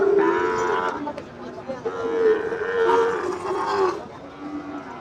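Cattle at a cattle market, including Sahiwal bull calves, moo in several long, loud lowing calls close by, one after another with short pauses between.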